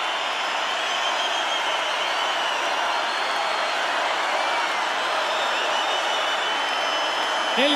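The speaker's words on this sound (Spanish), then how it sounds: "Y con este aplauso comenzamos a despedir a Juan Luis Guerra." A large festival audience at Viña del Mar 2012 keeps up sustained applause and cheering for Juan Luis Guerra, a dense, steady roar of clapping that never lets up.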